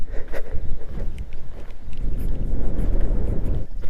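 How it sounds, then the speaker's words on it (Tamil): Strong wind blows across a hilltop with a large boulder, producing a steady, loud rumbling roar that buffets the microphone, swelling and easing in gusts with no talking. "காற்று பாருங்க, சூப்பராக அடிக்குது."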